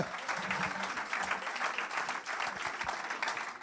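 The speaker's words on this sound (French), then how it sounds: "On acclame Jésus, frère et sœurs" A church congregation applauds during a French-language sermon, a dense and steady round of clapping from a crowd of people that carries at even volume from start to finish.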